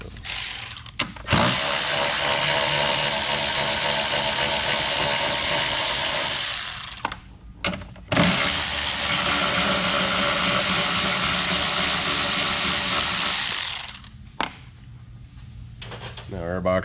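A socket ratchet loosens 10mm airbox bolts on a Chevy Express van, giving two long runs of steady ratcheting clicks, close and loud, each several seconds long, separated by brief pauses with faint handling noise.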